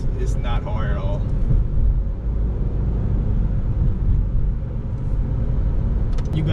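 Interior engine and road rumble from a 2015 Honda Civic Si with a manual transmission being driven, a steady low drone throughout with a voice speaking briefly near the start.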